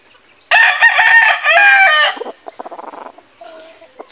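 A rooster crows loudly and close by in one long multi-part call, followed by softer clucking and scattered short calls from nearby fowl.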